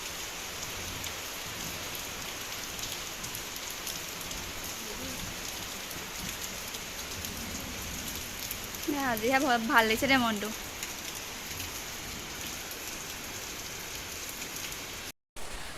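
Steady rain falls outdoors on a house and garden in Assam after a long dry spell, a soft, even patter throughout, with a person speaking briefly in the middle.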